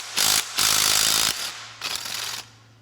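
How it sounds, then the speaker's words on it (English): Removing a 10mm bolt from a Ford 4.2L camshaft synchronizer with a power tool, three close buzzing bursts of roughly a second each with short pauses between them and a low hum underneath. "Okay, now we're ready to remove the bolt."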